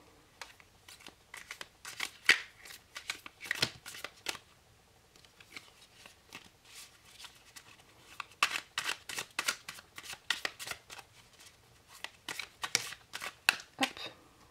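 Tarot cards being shuffled by hand: repeated quick riffling bursts in clusters, close and fairly quiet, with short pauses between rounds.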